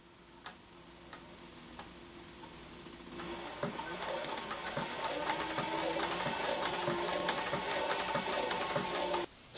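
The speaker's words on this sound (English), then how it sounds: "Stitching a straight line without a guide." A Cobra Class 4 sewing machine stitches a straight line in fabric. Soft isolated ticks at first give way to a steady, rapid mechanical ticking and whirring that grows louder and continues up close.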